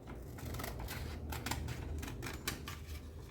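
Scissors cut a fabric strap for a children's crossed-back dress, giving a quick run of close, crisp snipping clicks in an uneven rhythm against a quiet background.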